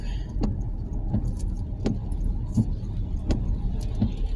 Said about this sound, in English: It's very busy street. It's traffic jams.